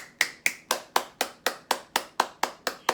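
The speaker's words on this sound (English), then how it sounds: "Let's clap our hands." Hands clap in a steady, even rhythm, twelve crisp claps over three seconds, close and alone without talk, in a children's sing-along setting.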